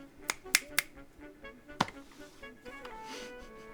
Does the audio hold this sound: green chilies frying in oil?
no